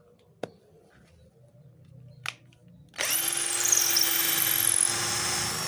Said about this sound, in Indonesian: Bor untuk kayu nyekrup-nyekrup, untuk tembok seperti ini bisa.